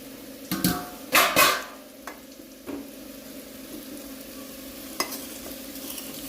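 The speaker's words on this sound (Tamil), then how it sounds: "வெண்டைக்காய் நல்லா ஃப்ரை ஆகணும், நல்லா கிறிஸ்பியாக ஆகணும்." Okra fries in extra oil in a covered pan until crisp, a soft steady sizzle broken by a few clattering knocks of a lid or spoon near the start and one later.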